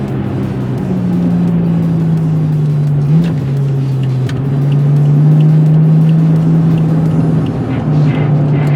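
Toyota Chaser pushing hard through a hot lap on a race track, its engine droning loud and close from inside the car with a steady tone that dips briefly mid-corner and climbs again.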